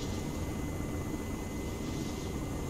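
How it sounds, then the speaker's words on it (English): A Black Hawk helicopter flies in the military video game Arma 3, a steady, broad engine and rotor roar that holds constant without pause. "Oh, who's the Black Hawk over the ramp?"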